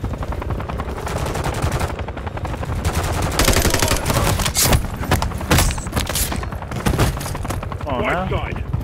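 Dense, loud automatic gunfire with booming shots in Call of Duty: Modern Warfare 3, heard as continuous rattling bursts and heavy thumps throughout, with game voices calling out over the shooting.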